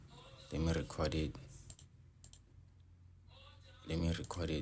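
A person speaks in short phrases over light, scattered clicks of keys pressed on a PC keyboard, the taps sharp and isolated during the pause between words.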